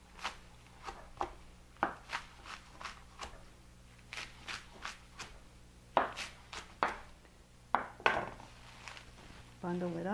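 Knife striking a wooden cutting board while chopping tender kale leaves, a string of irregular sharp taps at an unhurried pace, near and moderately loud, with soft handling noises in between.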